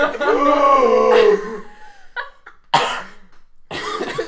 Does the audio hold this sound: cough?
yes